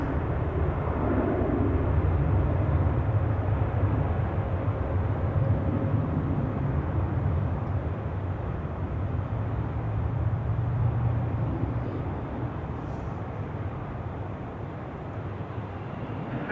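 An Airbus A350 departs Zurich Airport as a continuous, fairly distant low jet roar, steady throughout with a slight fade toward the end and no voices.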